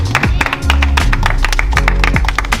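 Loud, close applause from a small group on a street in Ocho Rios, Jamaica: a quick flurry of handclaps over steady music and background voices.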